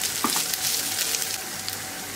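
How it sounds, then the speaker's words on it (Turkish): Meat sizzling loudly in a pan, a dense close crackle and hiss that holds steady throughout. "Arada karıştırarak bir 10 dakika daha kavuracağım."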